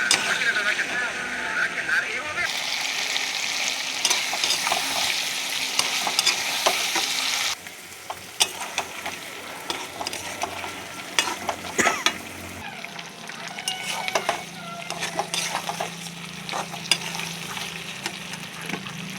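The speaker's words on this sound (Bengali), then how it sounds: "তারপর মাংসটা ভালো করে কষিয়ে নিল।" Meat with spices is stir-fried in a pan, with a continuous sizzle and repeated scraping and stirring strokes close by.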